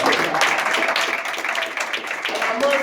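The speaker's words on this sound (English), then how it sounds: "Let's get a round of applause." Applause from a family audience at a Kwanzaa celebration, a dense patter of many hands clapping together, loud and close, with voices mixed in underneath throughout.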